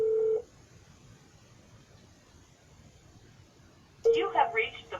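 Touch-tone telephone dialing while calling back a real estate lead, a steady beep at the start and then a quick burst of key tones near the end over a faint background hiss.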